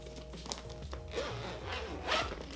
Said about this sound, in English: I put it in this and I zip it up. Then I love this. It just closes up and zips.